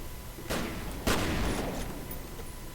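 Two sharp, loud shotgun blasts in the first-person shooter F.E.A.R., spaced about half a second apart, each followed by a brief echoing decay over low in-game ambience.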